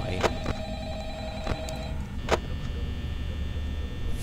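A telephone rings in the horror video game Five Nights at Freddy's, a few separated electronic ring bursts over a steady hum of game ambience.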